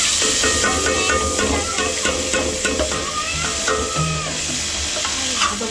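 Red chili, onion and garlic fry in a pan, giving a loud, steady sizzle with hissing steam and occasional stirring scrapes throughout.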